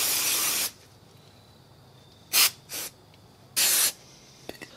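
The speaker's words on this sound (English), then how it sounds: "I'm just going to spray everything down." An aerosol can sprays down 150cc GY6 scooter CVT parts in several hissing bursts: one long blast, two short puffs, then another long spray, each separated by quiet.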